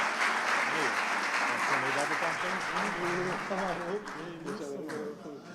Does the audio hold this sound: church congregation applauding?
yes